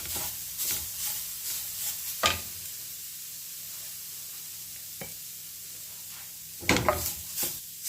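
Bay leaf and cinnamon get stirred through a spoonful of hot ghee in a pan, a low sizzle broken by a few sharp scraping stir strokes, with the loudest ones near the start and end.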